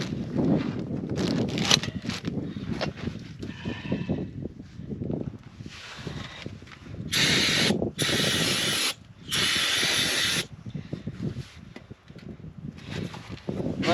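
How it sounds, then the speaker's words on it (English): Cleaner sprays onto truck brake shoes in a few sharp hissing bursts, each lasting about a second, after stretches of close mechanical clatter and handling noise. "So we'll spray this down a little bit"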